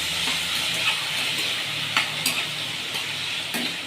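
A medium tomato added to a frying pan for a low-oil green corn dish, steady sizzling with a few sharp scraping stirs of a spoon against the pan.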